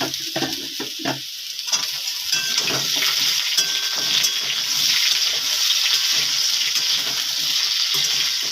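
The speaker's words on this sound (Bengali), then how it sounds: "সজনে ডাঁটা দিয়ে অল্প একটু নাড়াচাড়া করতে হবে।" Moringa drumsticks and already-fried potatoes stirred together in a pan, a steady close sizzle with scraping spatula strokes and a trickle of water noise, no voices.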